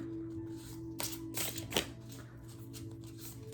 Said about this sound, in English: These cards, I always forget, and I start shuffling them really intensely, and they're so slippery